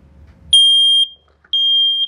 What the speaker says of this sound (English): We're gonna make the sound of the smoke detector